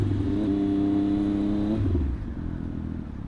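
A motorcycle engine, a 1200RS or CB650R, hums steadily with a strong low drone and a rising tonal whine, then drops to a lower, rougher idle near the end, with no talking.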